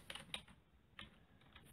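Keys clatter on a computer keyboard in a quick, faint burst of a few separate taps, close by and quiet, with no voices.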